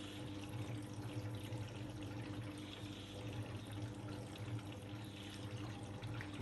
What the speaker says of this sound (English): Yeah, there's water.